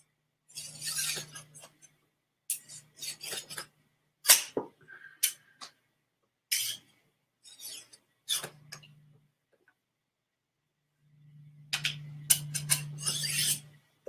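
A mini sword drawn through a steak knife sharpener in short, repeated rasping scrapes separated by pauses, close and fairly crisp, ending in a longer burst of strokes.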